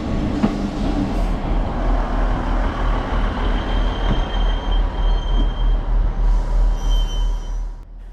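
A passenger train runs on Scotland's Far North Line toward Inverness, a steady loud rumble with rhythmic wheel clatter over rail joints and a faint high squeal of wheels near the end.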